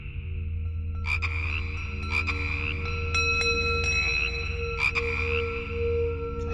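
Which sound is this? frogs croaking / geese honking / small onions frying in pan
frogs croaking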